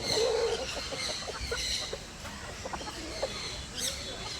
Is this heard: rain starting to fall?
no